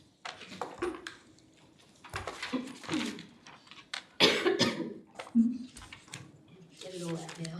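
A person coughs repeatedly during a council meeting. Several hacking bursts come close together, some loud and rough, with faint voices murmuring around them.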